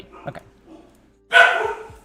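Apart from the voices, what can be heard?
dogs barking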